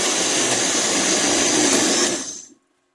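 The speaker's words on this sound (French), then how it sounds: "Maintenant, nous allons mixer." An electric blender whirs loudly and steadily as it purées koki batter, a close, constant grinding roar that winds down and cuts off abruptly near the end, with no voices.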